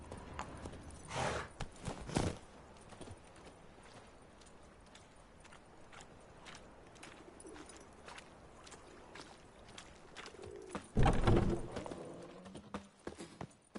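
Roach, a horse in The Witcher 3 PS5 Edition, trots with steady clip-clop hoofbeats on hard ground, moderately close, with louder bursts of movement and faint background ambience.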